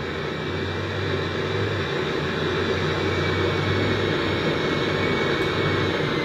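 Steady, loud engine roar of an airplane landing in an iOS flight game, a continuous drone with no break, and no voices.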